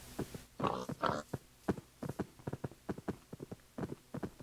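Short, choppy Minecraft pig grunts mixed with a steady run of soft rhythmic footstep clicks, a few louder oinks near the start and then repeated light pulses throughout, fairly quiet.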